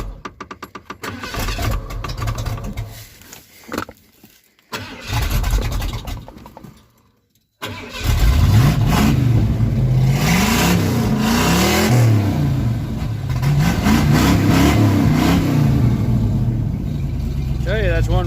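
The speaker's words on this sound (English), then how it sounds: "Tell you, that's one wicked motor." An old truck engine cranks with a few sputtering attempts, then catches and runs loud and close, revving up and down repeatedly in long surging waves.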